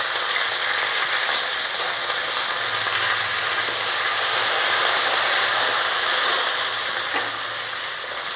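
Dried red chillies and curry leaves fry in hot oil, a loud, dense and steady crackling sizzle that holds for several seconds, close to the pan with no voices.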